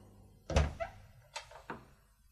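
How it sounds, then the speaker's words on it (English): A wooden door in a corridor being opened, giving a solid close thunk and latch click followed by a couple of softer knocks as it swings, heard alone with no voices. "I opened Charlotte's door."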